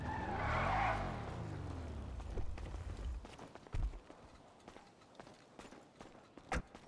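A car in the GTA roleplay video game screeches in a loud tire skid for about a second, then a stretch of quieter engine rumble and scattered sharp knocks and thumps follows, with no talking.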